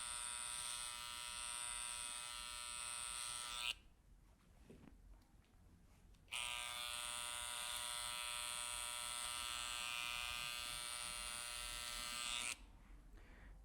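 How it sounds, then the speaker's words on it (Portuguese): An electric hair clipper trims the finishing edge of a high fade haircut with a steady high buzz that cuts out for a few seconds midway, then resumes and stops again near the end. "passa a maquininha de acabamento"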